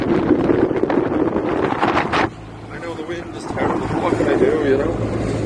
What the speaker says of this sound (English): I know the wind is terrible.